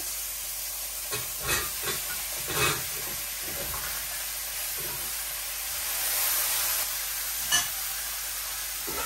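Malabar spinach stems and eggplant sizzle in a pan alongside fried fish, a steady close hiss of hot oil with occasional louder spatters and stirring clinks, no voices.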